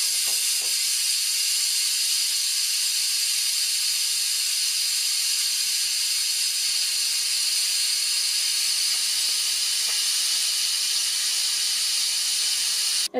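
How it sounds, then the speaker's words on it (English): Steam hisses steadily from a slow cooker during a quick pressure release, a loud, continuous high-pitched rush that stays even throughout and stops abruptly at the end. "It sounds like all the pressure's been released."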